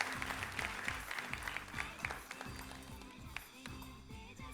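Audience applause while a distinguished guest lights a ceremonial lamp at a tribute event, a soft, distant ripple of clapping over a low rhythmic hum and background murmur.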